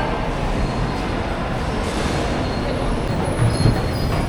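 Steady, loud rumble of a train at Circular Quay station, Sydney, with rail noise filling the whole stretch, a faint high squeal near the end; no voices.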